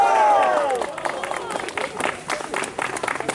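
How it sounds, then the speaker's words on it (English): Audience clapping for the cast after a historical performance about the Battle of King's Mountain, a crowd's applause with scattered cheers swelling after a brief shout and continuing at moderate volume. "if you would please give a big round of applause to the wonderful cast of Trail to Victory historians."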